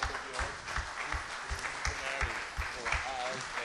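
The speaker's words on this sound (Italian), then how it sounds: "io farei un applauso a Bob Salvatore" A crowd at Lucca Games 2010 applauds Bob Salvatore at a fan meeting with Terry Brooks, moderate, even clapping heard from some distance with voices talking over it.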